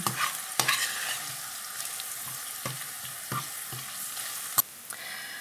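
Spices and chilies frying with garlic in a pan for Indian dal, a steady close sizzle broken by periodic scraping stirs and one sharp clack near the end.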